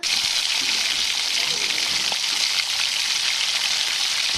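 A gram flour and yogurt mixture goes into a hot pan over a garlic-masala tempering for kadhi, producing a steady, close hiss of sizzling and bubbling throughout.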